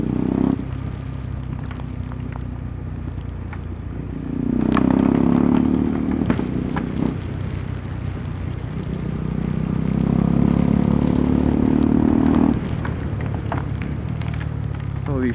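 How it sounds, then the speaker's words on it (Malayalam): Heavy rain during a motorcycle ride through a dark forest on the road from Kolli Hills toward Kochi: a constant loud rush and crackle of drops and wind, with engine-like surges swelling and fading twice. "അതിൻ്റെ ഇടയിൽ ഇതാ ഹെവി മഴയും പെയ്തു"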